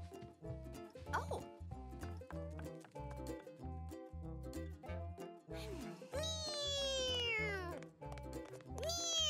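A cartoon cat meows several times in a children's animated show, short bright cries over a bouncy musical backing, with a voice speaking in between.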